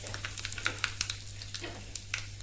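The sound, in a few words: asafoetida added to sizzling tempering oil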